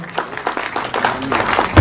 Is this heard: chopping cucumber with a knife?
no